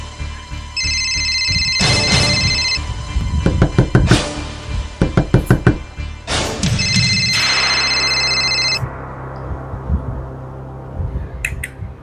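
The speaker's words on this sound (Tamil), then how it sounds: "போன் வேற அடிக்குது. கதவையும் யாரோ தட்டுறாங்க." A phone rings in repeated electronic bursts while someone knocks on a door in quick loud raps between and over the rings. The sounds are close and loud, in a comedy skit with miniature dolls.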